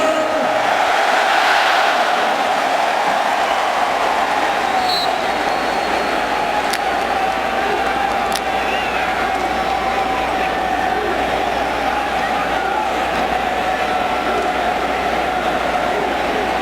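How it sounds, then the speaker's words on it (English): Large stadium crowd at a college football game, Minnesota hosting TCU, roaring steadily in a dense wash of cheering that stays loud and continuous throughout, with a few brief whistles poking through. "They're getting this crowd into the game."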